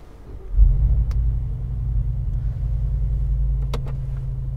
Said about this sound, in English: I will hold the downshift and hit the button to start.